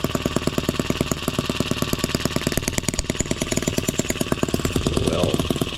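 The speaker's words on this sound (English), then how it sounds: "I will say that it is a running engine." An M25 sideshaft engine runs roughly at first start, a loud rapid steady chugging knock repeating evenly up close without pause.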